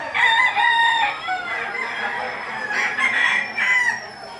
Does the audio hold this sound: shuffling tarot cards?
no